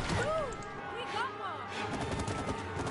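Gunfire from co-op shooting at enemies in the video game It Takes Two, rapid popping shots layered with game effects and whistling tones, with voices talking over it throughout.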